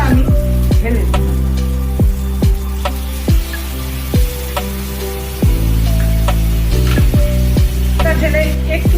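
Spice paste tipped into browned frying onions for Bengali yogurt catla fish, setting off a loud continuous sizzle with sharp crackles and spatters throughout, over a steady low hum.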